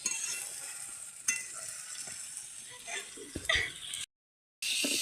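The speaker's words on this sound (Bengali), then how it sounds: "টমাটোটা ভালো মতন ভেজে নিচ্ছে।" Tomatoes fry quietly in a pan with a little added water, giving a soft, low sizzle. Scattered clinks and scrapes of stirring come through, and the sound cuts out briefly near the end.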